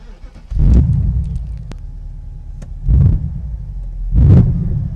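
A 2016 Morgan Aero 8 Roadster sports car engine fires up from a start button, followed by three loud, deep rumbling revs separated by quieter idling.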